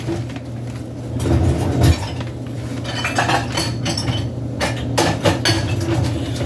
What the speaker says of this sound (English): I'm going to get a knife really quick.